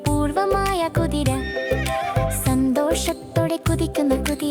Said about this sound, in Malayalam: കുതിര കുതിര കുതിര കൃഷിസ്ഥലങ്ങളിൽ ദൗത്യത്തിൽ കുതിക്കുന്ന കുതിര